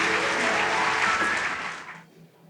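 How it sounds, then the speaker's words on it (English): A crowd claps in dense, sustained applause for a choir from Ebenezer Baptist Church West that fades out near the end, leaving quiet. "Can we give them another round of applause, please?"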